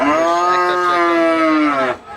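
A single long, loud moo from a nearby cow at a cattle market in Banshkhali, Chittagong, steady and drawn out for about two seconds before cutting off.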